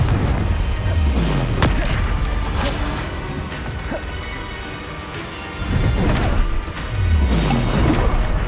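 Confringo fire spell blasts explode in a Hogwarts Legacy battle, heavy booming crashes and whooshing impacts layered over a constant dense roar, loud and close throughout.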